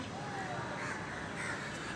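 Crows cawing outdoors, a couple of faint harsh calls over steady background noise, fairly distant.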